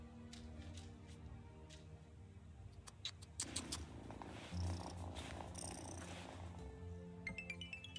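A cat in the video game Wylde Flowers purrs softly and continuously, a low close rumble joined by a few small game sound effects and light chimes.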